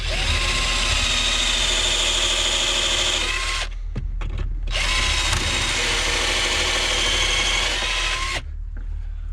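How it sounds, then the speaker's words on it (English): A power drill whirs loudly up close in two long bursts, drilling pilot holes in plywood camper flooring, each cutting off sharply, with a brief pause and a few clicks in between. "There goes my drill."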